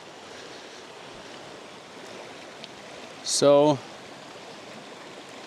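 Steady rushing flow of a dry-season mountain creek on a backpacking ascent to Connor Lakes, a constant even wash with a man's brief spoken word over it.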